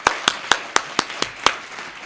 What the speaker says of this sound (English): So let's give the staff and Frankie an applause.